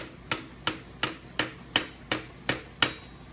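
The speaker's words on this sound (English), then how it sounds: "Take my baby hammer and I'm just going to start touching it a little bit to get it started." A small hammer taps a metal iPhone stand arm held in a vise, giving eight light, evenly spaced metallic clicks at a steady rhythm, close and clear with no talk.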